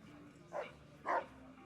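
A dog barks twice in Fallout: New Vegas, two short moderately loud woofs about half a second apart over quiet game ambience.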